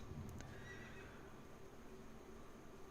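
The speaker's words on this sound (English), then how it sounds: "Let's get on the horse" A horse neighs in an MMORPG video game, a quiet whinny near the start with faint hoofbeats over a soft, steady background hum.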